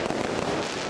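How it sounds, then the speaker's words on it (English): Fireworks bursting at night over the giant illuminated Christmas tree in Bethlehem, a dense, loud crackle of overlapping pops filling the whole moment. "fireworks lit up the night"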